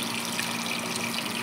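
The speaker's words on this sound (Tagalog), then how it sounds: "lagyan na natin ng tubig" Water pours steadily into a pot of chicken for molokhia, a continuous close rushing gush with no pauses.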